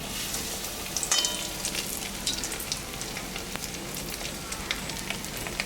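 Crisp fish fry frying in hot oil, a steady close crackle and sizzle with a few sharper pops as another piece goes in, no voices.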